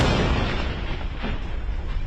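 Wartime blast in Gaza, a heavy, rumbling, broadband roar that sustains and slowly fades across about two seconds, loud and unbroken.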